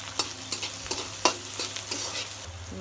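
Salted onion fries in a pan toward browning: a soft, close sizzle under a few sharp scrapes and taps of a stirring spoon, with no voices.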